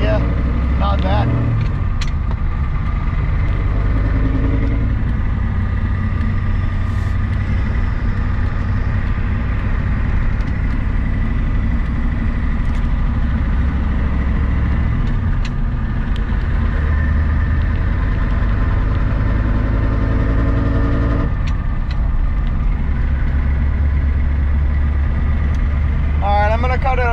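Car engine droning steadily from inside the cabin while driving home, a loud constant low rumble and road hum that shifts slightly in pitch, with faint other sounds over it.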